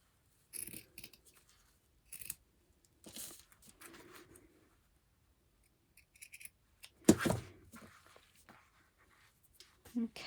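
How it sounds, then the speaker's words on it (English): Scissors snip through fabric in short, scattered cuts with quiet gaps between them, close and crisp, one cut louder than the others, with a voice talking at times. "So I'm going to use this as a guide to cut."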